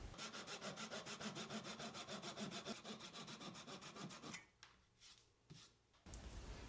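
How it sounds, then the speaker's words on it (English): Flush cut saw trimming wood flush, about a dozen quick rhythmic back-and-forth strokes close up, then a pause with a few scattered scrapes and knocks as the cut ends. "I could cut them flush with my flush cut saw"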